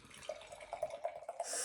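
Tree House IPA beer, Jjjuliusss or Aaalter Egooo, being poured into a glass, a close trickling, glugging stream with small bubbly pops, growing louder and fuller at the end.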